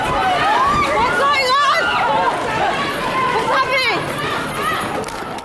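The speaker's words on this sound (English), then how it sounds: "everyone begins running at once at a train station" A panicked crowd at a London train station, many voices shouting and calling out at once over the rumble of people running, loud and continuous.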